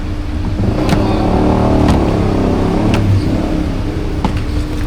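A vehicle engine runs steadily and loudly up close throughout, with a rumbling drone and a few sharp knocks or clicks on top, as the group rides toward a cobra-catching location.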